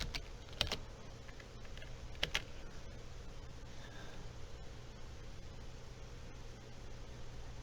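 A computer keyboard is typed on in a quiet room, with a few faint, scattered key clicks over a steady low hum of background noise.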